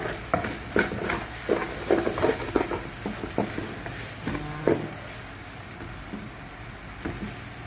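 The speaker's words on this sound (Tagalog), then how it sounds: "Haluin lang natin siya para hindi siya dumikit sa ating kaldero." Scraping stirring in a cooking pot of Filipino arroz caldo, a series of soft clatters and scrapes at an uneven pace, with faint sizzling underneath and quieter stretches toward the end.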